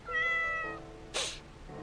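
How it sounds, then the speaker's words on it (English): Cat meow from the Pokemon Omega Ruby video game: one clear, tonal meow lasting under a second, followed by a short bright chime-like burst, alone over quiet background with no talk. "Meow."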